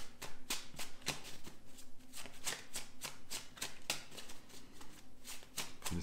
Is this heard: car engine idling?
no